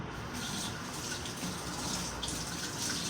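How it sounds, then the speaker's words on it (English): Hands being washed under a running kitchen tap while barbecue chicken and ribs are prepared, a continuous close gush of water splashing into the sink without breaks. "Let me just wash my hands right quick a minute."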